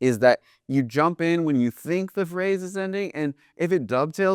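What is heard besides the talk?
No everyday noises stand out.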